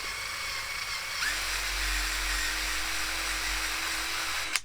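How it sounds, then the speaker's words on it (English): A Ryobi cordless drill spins a wire brush against an 80 Series Land Cruiser rear axle, with a steady high whir and faint scratchy grinding, running continuously for several seconds before a sharp stop. "this little wire brush on my Ryobi drill"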